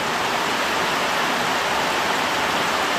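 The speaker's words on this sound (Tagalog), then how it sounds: "Oo nga, mas malakas pa yung agos dito." A strong, steady stream of rainwater pours into a drum at a hut under construction, a loud, unbroken hissing rush of water that stays constant throughout.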